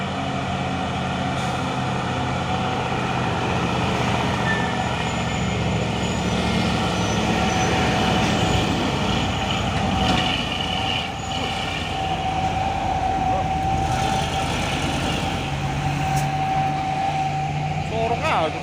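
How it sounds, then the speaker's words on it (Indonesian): A heavy dump truck engine rumbles steadily as it pushes another truck, with a deep continuous drone and occasional mechanical hiss, while someone talks over the noise. "Disorong terus sama dam truk ini, ya. Tenaganya ini berlebih-lebih nih."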